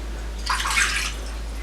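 Warm water poured into a measuring cup for homemade English muffin dough, a short, soft splashing trickle lasting about half a second, close and alone in a quiet kitchen.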